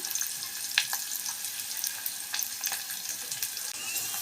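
Onions frying in a pan, a steady close sizzle with a few brief crackles and pops, no voices.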